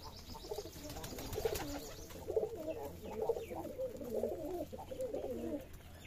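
Pigeons coo steadily in a pigeon house on a Bangladeshi pigeon farm, soft rolling calls repeating in overlapping phrases at close range with no voices.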